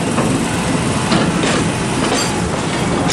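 An amusement park ride train at Kings Island rolls along its tracks, a steady close-up rumble with rattling wheel noise filling the whole stretch, no voices.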